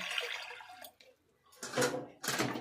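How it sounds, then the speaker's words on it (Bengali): Water poured into a wok to boil potatoes, splashing in two strong close bursts after a softer opening stretch, no voices. "আলুগুলো সেদ্ধ করার জন্য কড়াতে আমি জল দিয়ে দিচ্ছি"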